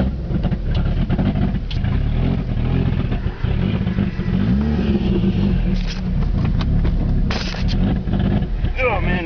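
A heavily cammed Eagle Talon engine revs loudly and roughly up close during a first test drive, its throbbing drone steady throughout, with someone talking over it.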